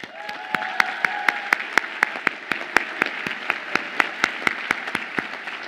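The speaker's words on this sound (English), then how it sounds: "Please join me in thanking and applauding them for the support and encouragement they have provided to you along your journey." An audience at a law school commencement ceremony applauds, with a steady wash of many hands and a few distinct sharp claps standing out close by. The applause holds even throughout.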